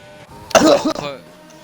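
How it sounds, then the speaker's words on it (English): A single harsh cough bursts out after a short quiet stretch, close and loud, then fades into a low murmur. "I need to cough."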